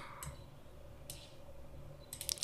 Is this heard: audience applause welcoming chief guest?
no